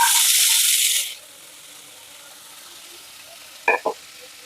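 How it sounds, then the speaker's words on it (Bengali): Carrots and peas drop into hot oil with a bright, loud sizzle that fades within about a second. Near-silence follows, broken by two small clinks near the end. "এখন এই তেলেই ভেজে নিচ্ছি আমি সবজিগুলো। এখানে গাজর আর কড়াইশুঁটি আছে।"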